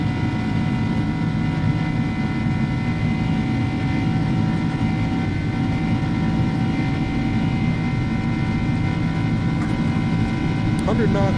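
An Airbus A300-600F on its takeoff roll at takeoff power in X-Plane 11 produces a constant heavy engine roar with a sustained high whine throughout, and a person speaks intermittently over it.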